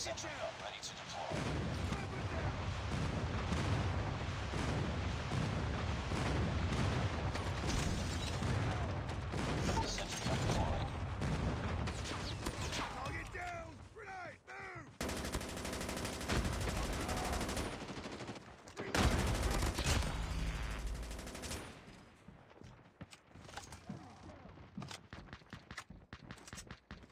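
Rapid gunfire and heavy explosions from a military shooter video game, including an incoming airstrike, rattle densely and loudly under radio-style voice callouts, then give way to a sudden dense blast and quieter action.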